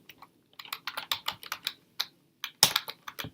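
Computer keyboard typing, a close run of quick irregular key clicks in short bursts with brief gaps, no talking.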